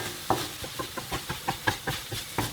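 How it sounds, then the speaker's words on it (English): Curry fried rice being stir-fried in a pan with a little water instead of extra oil: a soft, steady sizzle punctuated by about a dozen rhythmic scraping strokes of a spatula, close and moderately quiet. "So this is just a great way to stir fry without using extra oil"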